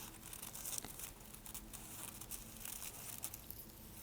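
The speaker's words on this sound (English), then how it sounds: "I can fold the tissue paper over the cardstock and tape it down" Tissue paper being folded over cardstock and taped down, soft close crinkling and rustling with a few sharper crackles, steady and fairly quiet with no talking.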